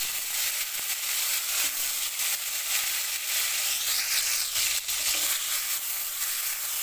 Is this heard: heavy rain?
no